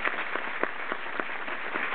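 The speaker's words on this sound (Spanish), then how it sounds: "Fuerte los aplausos entonces para el doctor Thomas Martin" Steady broadband applause from a conference audience welcoming an invited speaker at an ornithology meeting's opening ceremony, sustained and even for the whole stretch with scattered louder claps and no talk.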